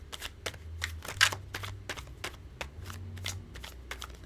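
Tarot cards being shuffled up close, rapid papery flicks in a quick uneven rhythm with a soft low hum underneath.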